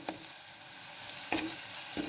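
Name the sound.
masala roasting and being stirred in a pan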